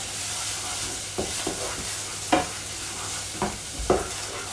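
Jamaican-style rice and peas made with basmati rice cooking in a pan, with a soft steady sizzle and bubbling interrupted by several sharp clatters and scrapes of stirring, close and without talk.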